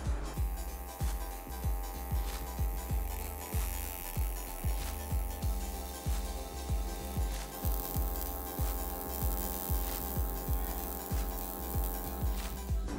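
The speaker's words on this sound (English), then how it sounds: "So notice this is obviously much too high for seam welding the tanks." Seam welding the end tanks of an oil cooler, a steady buzzing hum with a regular pulsing throb repeating about twice a second throughout, loud and continuous.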